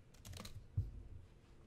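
A short run of quiet clicking keystrokes on a computer keyboard, with one slightly louder tap partway through, faint and close, with no speech.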